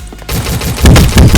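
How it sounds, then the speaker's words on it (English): Gunfire in a video game gunfight, loud and close, with a quick run of shots in clustered bursts over about a second and a half, no talking. "I shot you with a pistol"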